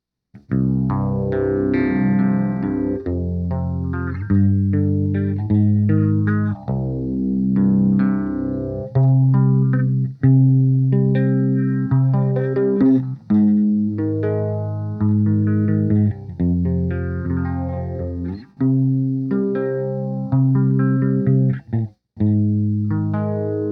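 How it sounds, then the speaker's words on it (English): Electric guitar played through an MXR Phase 90 phaser pedal, sustained chords and notes swirling with a moderate sweep, loud and continuous with no voice over it. "So, starting to sound cooler."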